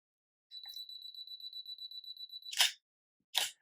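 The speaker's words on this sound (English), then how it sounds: "it made those sounds because it's letting me know that it's about to take the picture" A camera self-timer sounds a rapid, steady string of high electronic beeps for about two seconds, then two shutter clicks follow, crisp and close in an otherwise silent room.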